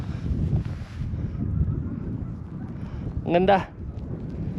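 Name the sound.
wind blowing around a camper van in the snow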